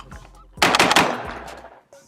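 A CZ 712 G3 semi-automatic shotgun fires a quick burst of loud, close shots in rapid succession, ringing out briefly afterward.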